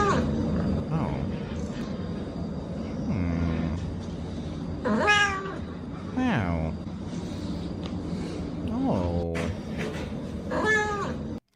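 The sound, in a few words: cat meowing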